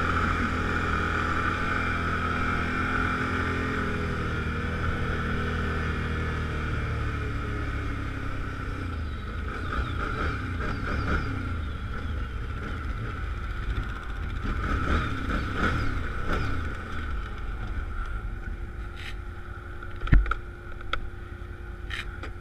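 A 2014 Can-Am Outlander 1000 ATV engine on a trail, a steady droning motor hum that shifts pitch as it revs, with rattling and knocks from the rough ride and a sharp thump near the end.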